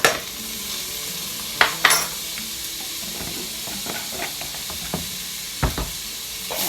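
Minced garlic cooking in a pan for a puff pastry pizza pie, a soft steady sizzle with a few sharp clinks and scrapes of stirring, no talk.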